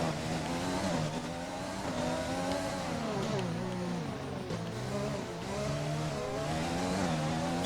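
An F1 car spins out in a racing video game, its engine whining and rising and falling in pitch as it revs unevenly, with tire scrub beneath, loud and sustained for several seconds.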